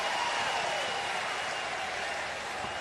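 A sustained, steady roar of a baseball crowd giving a mock cheer at TD Ameritrade Park during a College World Series game, Texas vs Arkansas, a dense wash of noise filling the whole moment.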